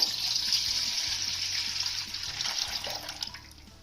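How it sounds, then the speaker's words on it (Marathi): Two glasses of water poured into a cooking vessel, a steady close splashing pour lasting a few seconds, no voices. "पुन्हा आपल्याला याच भांड्यामध्ये 2 ग्लास पाणी घालायचंय."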